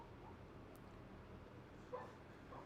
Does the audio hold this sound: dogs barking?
yes